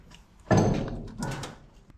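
Door of a vintage Apache pickup truck under restoration opening: one close, heavy thunk followed by a second duller knock and rattle, with no talk.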